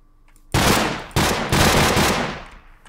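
Rapid bursts of automatic gunfire in Minecraft, loud and close, in three quick volleys with no talking.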